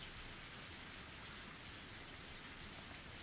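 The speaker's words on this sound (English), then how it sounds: "I just really liked the ambiance of the rain." Rain ambience from the Higurashi Himatsubushi visual novel, a dense, even patter and hiss of rainfall that stays soft and unbroken, with nothing else over it.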